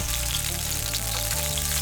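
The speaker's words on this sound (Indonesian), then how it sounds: "Tumis daun bawang dan batang daun ketumbar yang ada akarnya hingga harum." Spring onion and coriander stems with roots sauté in a pan, a loud, steady sizzle and frying crackle throughout, with no talking.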